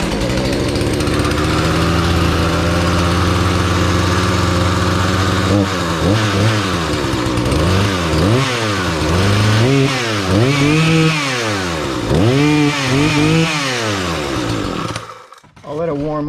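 A Husqvarna 240 chainsaw starts and idles roughly, then revs up and down repeatedly in loud, close bursts before cutting off abruptly near the end.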